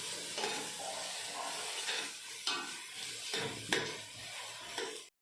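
Vegetables frying in a pan for soybean chili, a continuous loud sizzle with occasional stirring scrapes, close and alone without any talk.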